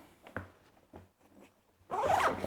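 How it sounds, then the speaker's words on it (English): A cello case zipped shut, with a few soft scratchy zipper pulls followed by one loud, rasping zip close to the microphone. "zip it back up"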